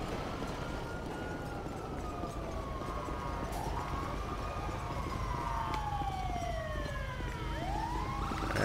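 Fire truck siren in GTA 5, wailing and sweeping up and down in rising and falling tones over a steady engine-like rumble, moderately loud and without talk.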